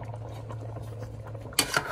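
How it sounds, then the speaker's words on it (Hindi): Water with rice simmers and bubbles in a pot for chicken pulao, a soft steady bubbling close by, with a brief clatter of a spoon or utensil near the end. "अब इसको ये बबल शबल जो आ रहे हैं ये आएंगे, तो ज़्यादा चम्मच नहीं मारने।"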